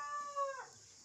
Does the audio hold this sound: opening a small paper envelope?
no